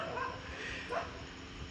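Dog barking with a low growling edge, heard at night in a rural village setting during a staged folk drama scene, short yips over steady background noise.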